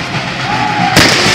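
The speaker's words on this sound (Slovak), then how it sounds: "tam bola pekná salva rakúskej armády." An Austrian army musket volley at a Napoleonic battle reenactment during a siege of Bratislava, a sudden loud crackling blast that cuts through quieter outdoor ambience partway in and rings on to the end.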